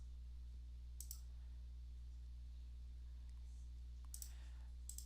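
A computer mouse clicks a few times while striped volumes are set up in a RAID configuration: isolated sharp clicks near the start and a pair near the end, over a steady low hum.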